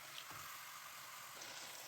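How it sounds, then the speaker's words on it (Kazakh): Chicken meat frying in hot oil in a kazan, a faint, steady sizzling hiss that runs throughout without any speech. "тауықтың етін салып қуырамыз."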